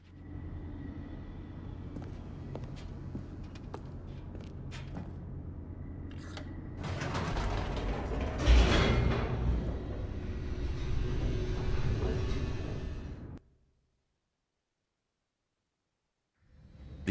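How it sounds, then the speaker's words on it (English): In The Stanley Parable video game, an elevator descends with a low mechanical rumble and faint clunks that swell louder midway, then the motion sound cuts off into near silence. "The elevator raced downward,"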